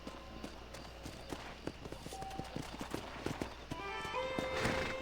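Horse hooves clip-clop at a walk in the Red Dead Redemption game, a quiet, steady run of hoofbeats with a soft whinny-like tone near the end, no talking over them.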